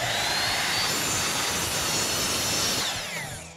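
A power saw rips through a 7 1/4 inch piece of barnwood in one loud, close, continuous cut of about three seconds, fading as the blade exits.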